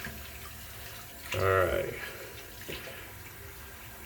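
Water running from a bathroom tap as an electric shaver is rinsed off, a short burst of splashing flow close by, with someone talking briefly over it.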